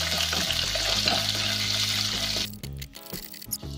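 Urad dal and chana dal hit hot tempering oil for masala dosa filling, a loud continuous hiss that cuts off abruptly partway, followed by quieter scattered crackles and clinks.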